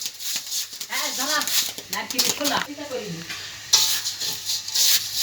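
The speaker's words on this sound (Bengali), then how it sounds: "বালির ভিতরে এক মুঠ ধান দিয়ে নারকেলের শলা দিয়ে নাড়াতে হয়" Paddy rice being stirred through hot sand with a coconut-rib stick to make puffed rice in rural Bengal: a continuous gritty rustling and scraping, close, with a voice talking over it for most of the clip.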